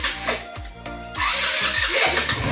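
Rusi RFI 175 motorcycle engine cranking and catching, a run of stuttering starter pulses that break into an uneven, sputtering idle, close and loud.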